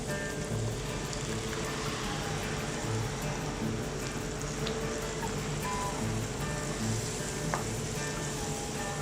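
Steady, continuous sizzling and crackling of ground onion-tomato masala sautéing in a hot pan for channa masala, with occasional faint clinks, no voices.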